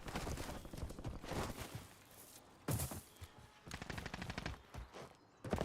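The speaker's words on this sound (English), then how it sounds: "gunshots" Rapid bursts of Call of Duty: Warzone gunfire crackle in quick succession, with sharp individual shots standing out against a busy, continuous background of game noise.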